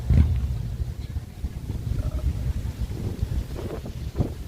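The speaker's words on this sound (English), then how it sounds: "I'm really more concerned if y'all can hear me with the wind." Gusty outdoor wind buffets the microphone with a steady low rumble that swells and dips in strength throughout, with no clear voices over it.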